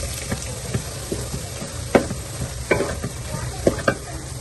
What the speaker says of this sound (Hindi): इस तरह का पकता पकता घी आपने डालना है और फौरन ही मिक्स करते रहना है